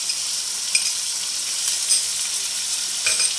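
Mutton sizzling in a karahi as tomatoes and ginger go in: a steady hiss of frying with light stirring scrapes, close up and without talk.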